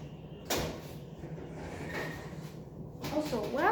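An oven door swings shut after a pan of flipped shrimp is slid back inside, giving one sharp thud near the start, followed by clattering handling and a faint hum of kitchen background.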